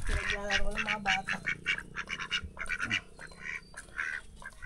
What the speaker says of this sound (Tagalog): Kulong na kayo ngayon dalawang itik.